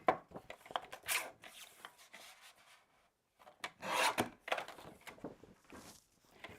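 White cardstock being trimmed for a folded card base, a series of close scraping and rasping cuts in short bursts with a brief pause in between.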